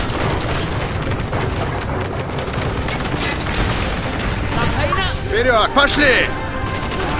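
Sustained rattling machine gun fire and explosions fill a Call of Duty Black Ops battle in a jungle village, loud and dense beneath shouted soldier voices.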